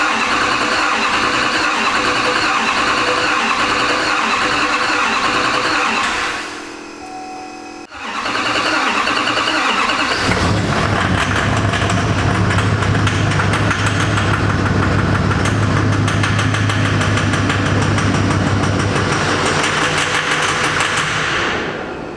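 An LML Duramax diesel truck engine cranks, pauses briefly, then fires and settles into a loud, steady, rough-running idle up close, with a lumpy knock as if some injectors are misfiring.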